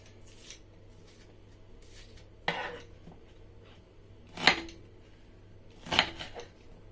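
A knife chops white onions on a board for jollof rice, with three faint, sharp, irregularly spaced cuts against a quiet room hum.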